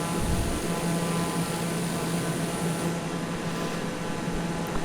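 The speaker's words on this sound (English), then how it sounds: "This is a great little airplane." A TBM 930 single-engine turboprop in a flight simulator cruises with a continuous loud, even engine drone and low hum, steady throughout with no speech.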